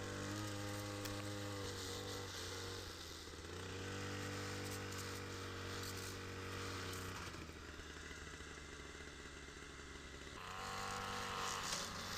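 A string trimmer fitted with a steel wire head whines steadily at close range while cutting scrubby weeds. The engine drones with small surges in pitch, and no voices are heard.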